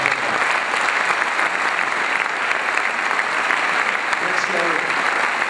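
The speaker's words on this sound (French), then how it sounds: "Vous pouvez franchement les applaudir," An audience at a cdH political party speech in Louvain-la-Neuve gives sustained, dense applause, loud and continuous from start to finish.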